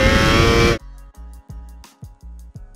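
A racing motorbike on the Imola straight screams at around 12,000 RPM. A loud burst of noise gives way to a run of sharp, pulsing, high-pitched engine bursts in quick succession.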